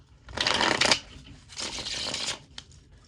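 A deck of tarot cards is shuffled in two close, crisp riffling bursts with a short pause between them, ending in a single soft tap.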